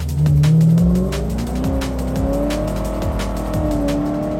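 A Ford GT sports car pushed hard through corners at the Paul Ricard circuit, engine roaring close by with shifting revs and squealing tires.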